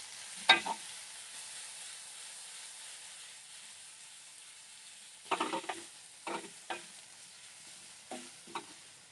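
Stir-fried capsicum, carrot and cabbage for veg Hakka noodles, mixed in a pan with a faint hiss beneath several short clattering scrapes, one early and a cluster later, close by with no speech.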